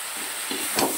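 Ground coriander, cumin and Kashmiri chilli powder sauté in a pan with chopped onion, garlic, ginger and tomato for a fish curry, making a close, continuous sizzle with a brief stirring scrape toward the end.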